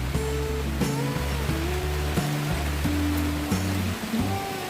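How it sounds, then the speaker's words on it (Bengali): Heavy torrential rain pours steadily during a lockdown, a dense continuous wash of sound that stays loud throughout, with some low tonal hum underneath. "প্রচুর বৃষ্টি হচ্ছে, মানে মুষলধারে বৃষ্টি হচ্ছে।"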